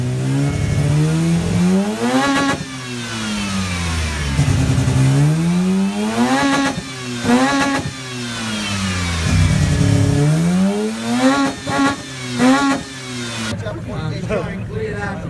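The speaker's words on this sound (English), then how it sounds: "You just need to make noises with that engine." A car engine in neutral is revved hard again and again, each long climb in pitch falling back before the next, loud and close, with popping bursts between revs.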